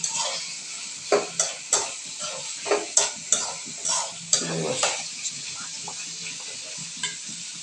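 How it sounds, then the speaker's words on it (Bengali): Medium-sized prawns and onions sizzle loudly in a pan while a spatula scrapes and stirs in a quick, uneven rhythm of sharp strokes over the constant hiss of frying. "পেঁয়াজ ভাজা হচ্ছে, এর সাথে চিংড়ি মাছগুলো ছেড়ে দিলাম"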